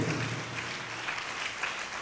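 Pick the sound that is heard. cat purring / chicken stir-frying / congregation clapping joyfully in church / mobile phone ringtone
congregation clapping joyfully in church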